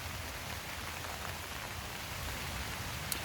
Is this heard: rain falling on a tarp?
yes